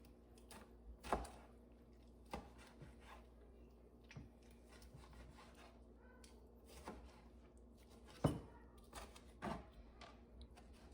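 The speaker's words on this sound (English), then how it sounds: "Now I'm going to be cutting up the salad." Knife chopping salad leaves on a board at home, a few sparse, soft taps and cuts spread out at irregular moments, quiet and close, with no talking.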